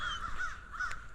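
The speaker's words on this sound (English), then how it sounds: "Lots of crows out here today, squawking." Crows cawing at the Fort Worth Nature Center, a few faint, distant harsh caws in a short sequence against quiet outdoor ambience, with no talk.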